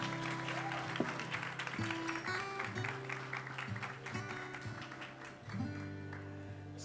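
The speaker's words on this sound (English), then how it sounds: "can we have a round of applause for the panel" A celebrity beauty-brand event crowd applauds the panel, a steady wash of clapping under sustained background music tones, with some voices mixed in.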